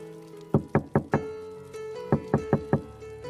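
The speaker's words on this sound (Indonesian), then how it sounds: "Tiba-tiba, pintu diketuk dari luar dengan keras." Loud knocking on a door from outside, two quick bursts of four hard raps each, separated by a short pause, close and sharp with no talk.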